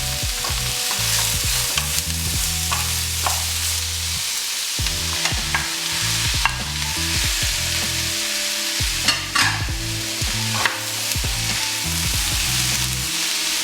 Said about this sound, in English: Stir fry all the vegetables for about 5 minutes.